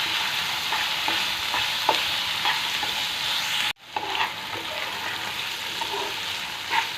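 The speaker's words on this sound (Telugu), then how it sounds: "లివర్ అంతా ఫ్రై అయిపోయింది" Chicken liver frying in a pan, a dense, continuous sizzle with light stirring taps, briefly cut off midway before resuming at the same level.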